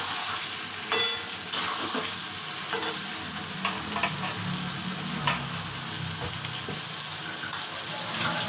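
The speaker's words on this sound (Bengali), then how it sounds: "আমি আলুটা এর সাথে অ্যাড করে দিলাম।" Potatoes frying with sesame paste in a pan give a steady close sizzle, with occasional stirring scrapes and clinks throughout.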